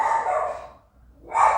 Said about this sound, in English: I think there's a dog outside.